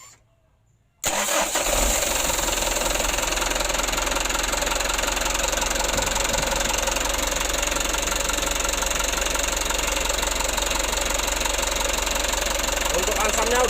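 A Mitsubishi Canter HD125 PS truck's diesel engine, with its Bosch pump setting being adjusted, cranks and fires after a second of silence, then settles into a loud, steady, knocking idle that runs close up without pause.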